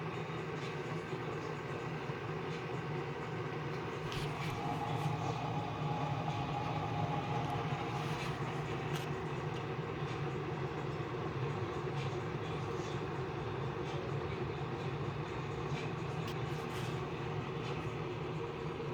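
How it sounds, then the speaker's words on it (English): A Keurig K-Compact coffee machine rumbles steadily while brewing, a continuous low mechanical drone with occasional faint clicks and ticks layered over it throughout. "Ooh, this is not a quiet machine."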